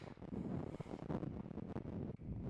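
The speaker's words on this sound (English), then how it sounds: "it's so windy out" Strong gusts buffet the microphone at Carhenge, the roadside car sculpture in Alliance, Nebraska, a steady loud rumbling roar that surges and dips throughout, with no voices.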